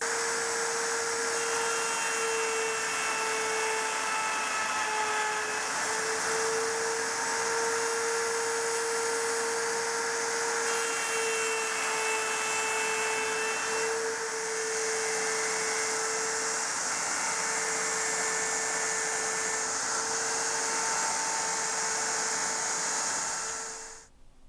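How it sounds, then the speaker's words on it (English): A router on a router table cuts shapes out of wooden blanks, giving a loud, steady high-pitched whine that carries on for the whole stretch with small shifts in pitch as the wood is fed, and stops at the end. "Now that I've got all the blanks cut out on the router table"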